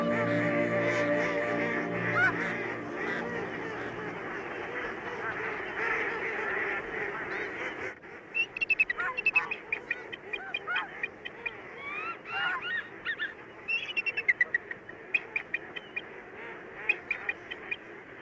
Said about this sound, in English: Ducks, geese, and swans, more than 50 species in all,